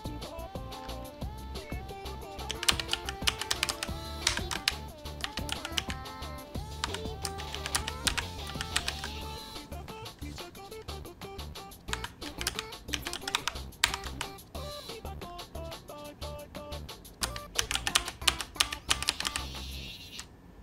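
Rapid, steady clatter of computer keyboard keys pressed in quick rhythmic runs while playing the rhythm game Friday Night Funkin', layered over loud game music throughout, with no voices.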